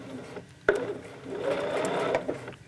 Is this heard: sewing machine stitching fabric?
yes